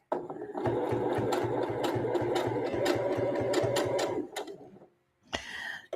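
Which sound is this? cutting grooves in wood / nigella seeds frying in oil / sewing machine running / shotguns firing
sewing machine running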